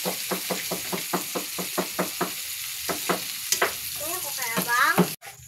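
Sardines going into crushed tomatoes in a cooking pan, heard as a steady run of quick spoon knocks and scraping against the pan with a light sizzle, ending in a brief scrape and clatter.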